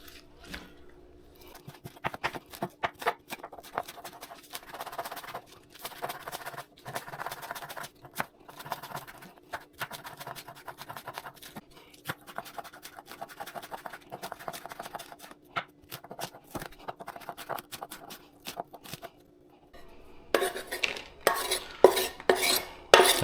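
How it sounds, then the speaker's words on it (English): A knife chops green onion on a cutting board in quick, sharp taps, steady bursts of close chopping with brief pauses, then a faster flurry of cuts near the end. "I'll take us some green onion. Go ahead and chop that up."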